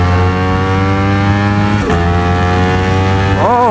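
Ducati motorcycle accelerating while riding: a loud, close engine note climbs steadily in pitch, drops briefly at a gear change, then rises again and dips once more near the end, with no talk over it.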